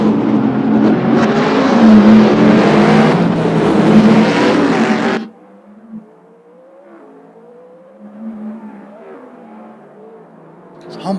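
Dodge Challenger race car engine revving hard and loud for about five seconds, then cutting off abruptly, leaving faint distant engine noise and voices behind.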